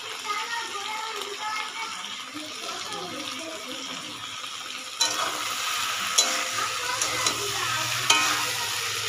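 Turmeric, salt and spices sizzle and crackle in a hot pan while being stirred, a continuous close frying hiss with scraping strokes, growing a little louder and busier partway through.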